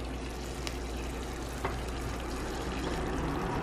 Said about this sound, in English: And now I'm putting in my onions